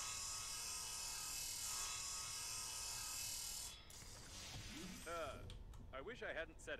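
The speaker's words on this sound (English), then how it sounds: "luckily I have the requisite saw drill" In the video game Breathedge, a saw drill grinds loudly through a closed door with a continuous harsh whine, then cuts off, and a voice talks over the quieter tail.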